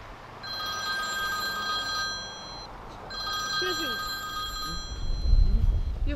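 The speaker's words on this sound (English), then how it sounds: "Your phone's ringing." A telephone rings in two long electronic bursts separated by a short gap, fairly loud and steady, with a low background hum and a brief voice underneath.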